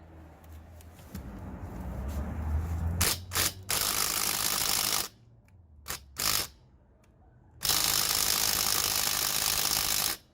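An impact wrench works the lug nuts on a Ford Explorer wheel, with a rattling mechanical buzz that builds, then loud bursts of hammering broken by short silences and a final long run.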